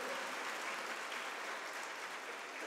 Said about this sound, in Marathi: जोरात टाळ्या वाजवा एकदा